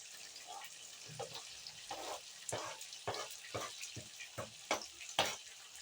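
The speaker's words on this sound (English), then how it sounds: "we're going to reduce our heat and add in our potatoes. Add in our onions." Potatoes and onions go into a hot skillet over reduced heat, giving a soft close sizzle with intermittent stirring scrapes and bursts of crackle.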